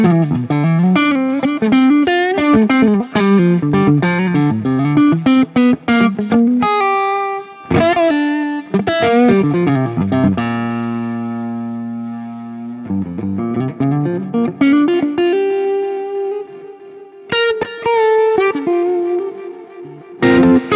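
Distorted electric guitar played through a Strymon Volante tape delay pedal, bursts of chords and single notes trailing into repeating echoes that ring and decay, loud and up close, with a sustained held passage in the middle and no talking.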